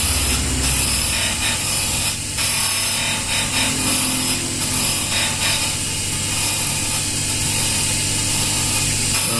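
A diamond stone does rough grinding on a stock Vario 150 camshaft, a steady abrasive rasp with a machine hum running close and loud throughout, with no talk over it.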